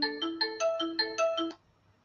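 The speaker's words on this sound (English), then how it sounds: "Oh, I've got a phone call" A mobile phone rings with an incoming call: a bright melodic ringtone of rapid repeated electronic notes for about a second and a half, loud and clear with no talking, then cutting off to quiet room noise.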